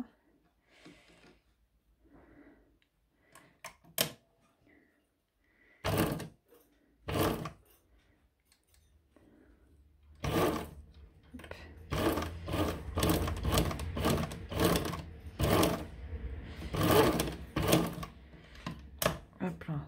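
A domestic sewing machine runs a zigzag stitch over a small piece of elastic, starting with a few short isolated bursts and then settling into a longer run of rhythmic stitching, with someone speaking French over it.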